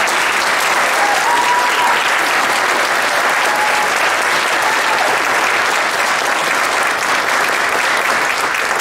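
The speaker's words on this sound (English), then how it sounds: "I want you to give them another round of applause" Audience in a school auditorium giving a high school wind orchestra a sustained, loud round of applause, dense continuous clapping from a large crowd with a few faint cheers over it.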